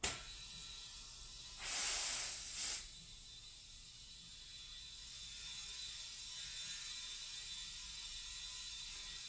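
A manual pump pushes air into a tire during a tire change, giving one loud hissing burst of about a second with a brief second puff right after, then a quiet hiss and faint background noise.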